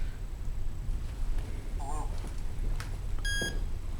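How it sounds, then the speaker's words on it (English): Electronic beep from a Sobrietor breathalyzer device, one short tonal bleep over steady low background noise, with a brief tonal sound just before it. "Wait for the beep"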